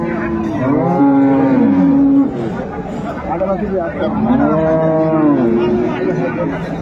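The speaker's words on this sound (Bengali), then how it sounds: "আর আমরা দেখছিলাম এখানে চমৎকার গাভী বাছুর।" Loud, close mooing from dairy cows and calves at a cattle market, long drawn lowing calls overlapping, with people chattering in the background.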